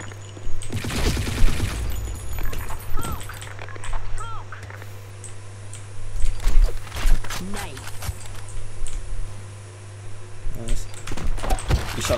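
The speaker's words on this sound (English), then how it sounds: "Shot going out." Gunfire in the first-person shooter Blackshot during a competitive match, with bursts of shots and rapid clicking scattered through the clip while several players talk over voice chat.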